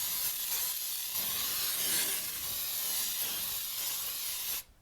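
Cooking spray hisses from a can into a Bundt cake pan, one close, continuous spray lasting several seconds before cutting off abruptly.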